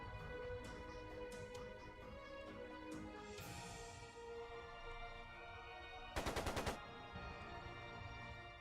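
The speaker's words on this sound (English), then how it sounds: "It sounded like a machine gun." Burst of rapid machine gun fire in the video game Trails of Cold Steel 2, a tight string of about six sharp shots midway through, over steady game music and ambience.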